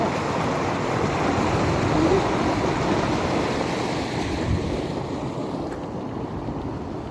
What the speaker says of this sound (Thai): ความแรงของน้ำ